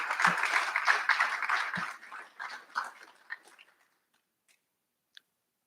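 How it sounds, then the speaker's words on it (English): Graduates clap at a college recognition ceremony, a dense burst of applause that thins out into a few scattered claps and fades to silence by the end. "So give yourselves a well-earned round of applause."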